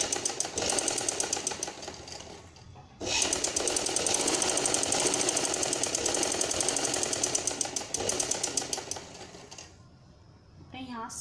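A sewing machine stitches along sleeve edges in rapid, even mechanical bursts, pausing briefly between runs, close and loud, while a person talks over it.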